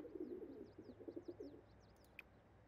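Pigeons or doves in a video game coo in a soft rhythmic series of low calls, fairly close and steady, fading out after a second and a half as faint higher chirps continue.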